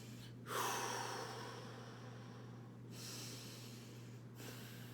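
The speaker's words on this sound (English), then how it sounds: "close your eyes, breathe some deep breaths" Deep breaths taken during meditation practice: a strong inhale-exhale rush near the start, then two softer breaths later, heard alone over a steady low hum.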